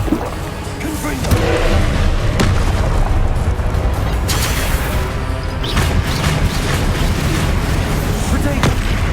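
In Hogwarts Legacy, a Confringo fire spell produces loud, rumbling blasts with deep booms and crackling over a continuous roaring bed, and a voice speaks over the din.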